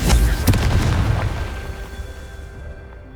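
A Confringo fire spell bursting in Hogwarts Legacy on PS5: one loud, deep boom with a crackling tail that fades over a few seconds.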